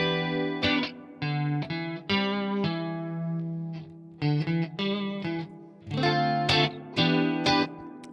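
Chimey electric guitar played through an effects pedal with a chorus-like shimmer, sounding bright sustained chords and single notes in short strummed phrases separated by brief pauses, close and fairly loud with no voices.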